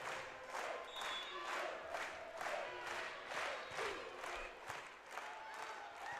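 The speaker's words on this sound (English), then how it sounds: "Big Blue Nation on their feet, clapping away" A volleyball crowd at an NCAA women's Elite 8 match stands and claps in unison, steady rhythmic claps about twice a second from a large arena audience, with cheering mixed in.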